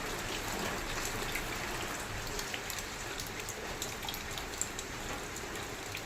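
Continuous rain patters and hisses on surfaces nearby, steady throughout with occasional louder drops standing out.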